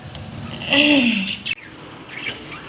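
A single loud, close bird call with a falling squawk from sparrows and parrots on a home balcony, followed by a fainter chirp a moment later.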